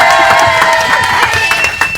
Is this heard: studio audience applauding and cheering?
yes